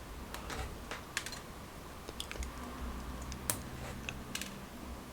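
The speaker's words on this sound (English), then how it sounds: "let's get my snips and let's start trimming this pad off." Hobby snips trimming plastic parts off a sprue while building Deathwatch Terminator miniatures, producing a run of sharp, irregular close-up clicks and snaps over a faint steady background hum.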